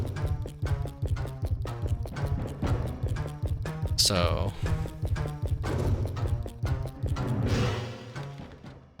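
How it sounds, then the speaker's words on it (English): Footsteps of an approaching enemy in the horror game Illbleed thud in a steady, heavy rhythm, close and continuous for several seconds, with a brief voice and other game sounds layered over them. "I hear footsteps, so one's coming for me."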